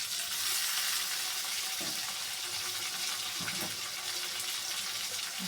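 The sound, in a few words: onions frying in a pan for hilsa fish curry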